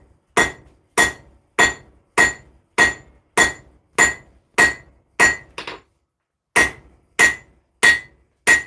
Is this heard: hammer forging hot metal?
yes